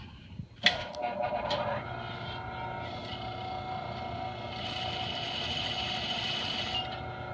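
A sewing machine stitches slowly along a back skirt seam, giving a steady, close mechanical whir with a few sharp clicks at the start and a faint hum running throughout.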